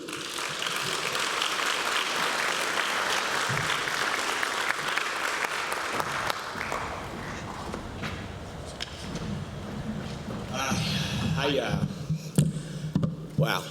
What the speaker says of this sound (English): Ladies and gentlemen, a round of applause for Chris Dollinger.